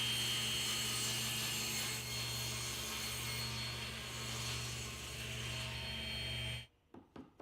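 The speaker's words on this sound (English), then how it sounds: "I'll fit the door to the cabinet by trimming off 1/8 inch off the bottom of the door" A power saw trims 1/8 inch off the bottom of a wooden cabinet door, giving a loud steady cutting whine with a low motor hum throughout, then stopping abruptly near the end, followed by a few brief knocks.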